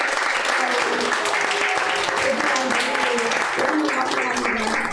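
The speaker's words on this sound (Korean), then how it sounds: "다 같이 박수" A church congregation breaks into warm applause at a Sunday service, a dense wash of clapping from many hands that fills the room for a few seconds, with a voice or two mixed in.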